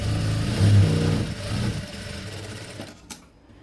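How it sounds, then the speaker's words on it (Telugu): Sewing machine stitching a blouse's lining and main fabric together, a steady close mechanical whir that runs continuously, then slows and stops near the end. "లైనింగ్ మెయిన్ ఫ్యాబ్రిక్ కలిపి మళ్ళీ ఒక కుట్టు అయితే వేసేసుకున్నాం"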